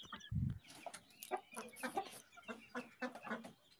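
A native laying hen on a small backyard farm clucks nearby in a quick, uneven series of short calls, opening with one louder low note.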